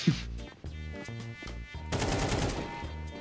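Rapid automatic gunfire in the video game Counter-Strike, loud and close, first as short bursts and then as a continuous volley over the last second and a half.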